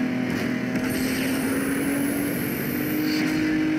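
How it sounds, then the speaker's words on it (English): Rival car engine in the racing video game Need For Speed Underground 2, a steady loud drone with a sustained tone that climbs slowly, holding close and continuous throughout. "I can clearly hear his engine"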